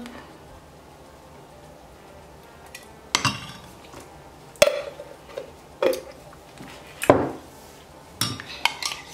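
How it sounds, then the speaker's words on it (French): A spoon stirring a tablespoon of honey into coffee in a cup, heard as sparse, bright clinks of metal against the cup, irregularly spaced against a quiet background. "je vais rajouter une cuillère à soupe de miel et je vais remuer le tout"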